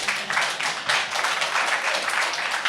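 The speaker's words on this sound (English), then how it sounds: "Give her a round of applause" An audience at a BronyCAN 2015 convention panel claps in a brief, steady round of applause, dense and fairly close, with no talking over it.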